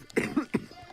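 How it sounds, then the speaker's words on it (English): A person coughs two or three times in quick succession, short close bursts with a slight throat-clearing quality, alone without talk. "Why am I coughing again?"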